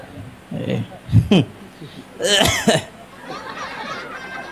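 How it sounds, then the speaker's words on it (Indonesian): Someone coughs a couple of times between bits of talking during a sermon, the coughs sharp and close, with a throaty burst in the middle. "Batuk, bujuran batuk."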